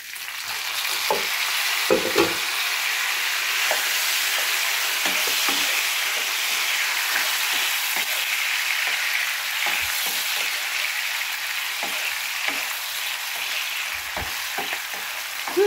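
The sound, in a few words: tomato added and stir-frying with garlic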